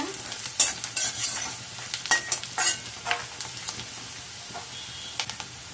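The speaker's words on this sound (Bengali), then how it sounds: "পেঁয়াজটা দেখো সোনালি করে ভাজা হয়ে গেছে।" Golden-browned onions fry in a pan with a continuous close sizzle, punctuated by repeated stirring scrapes and small utensil clicks at an uneven pace.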